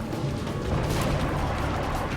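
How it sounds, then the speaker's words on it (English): Dense, continuous rumbling and crashing blasts, like explosions going off one after another with no pause. "Might as well get the explosions while we can."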